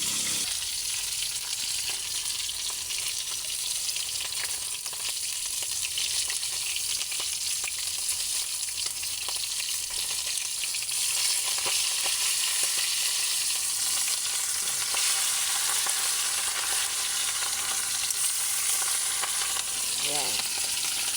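Fish frying in a wok, three pieces at a time, hisses in a steady dense sizzle for the whole stretch, with scattered pops and faint scrapes of a utensil and no voices.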